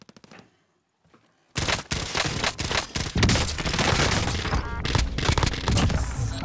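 CARV 2 SMG fire in Call of Duty Cold War Warzone. A near-silent moment gives way to sustained, loud, close rapid bursts of gunfire with dense, overlapping shots.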